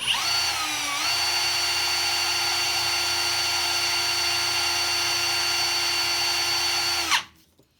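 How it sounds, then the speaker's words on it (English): A small rotary tool with sandpaper cleans burrs off a metal part of a vintage Japanese lighter, a loud steady high-pitched whine running continuously before spinning down at the end. "Put a little sandpaper on that just to clean that burrs up a little bit."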